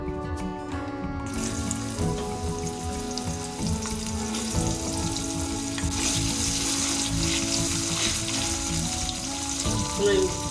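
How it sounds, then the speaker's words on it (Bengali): Cut pointed gourd pieces fry in hot oil in a wok, a continuous close, loud sizzle with occasional stirring clatter throughout, no speech. "এই গরম তেলে কেটে রাখা পটলের টুকরোগুলো যোগ করে দেবো।"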